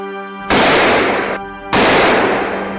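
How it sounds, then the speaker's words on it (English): Two loud, sharp bursts of machine gun fire during a wild boar hunt at dusk near a forest edge, each one cracking sharply and then ringing and fading, close and with no talk. "Without hesitation, I pulled the trigger, and the burst of gunfire sent the entire pack fleeing into the darkness."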